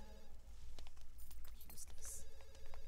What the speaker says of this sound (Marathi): एक फोन आला असणार